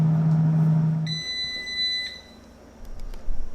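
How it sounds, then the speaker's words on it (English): A Power Air Fryer Pro 10-in-1 cooking ribs gives a single sustained electronic beep when its 90-minute cook cycle ends, a bright tone held for about a second over low background hum. "beep after 90 minutes"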